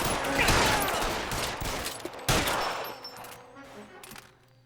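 Gunfire in the LA Noire video game: a rapid burst of gunshots with a sharp crack partway through, loud and reverberant, fading into quieter ambience at the end.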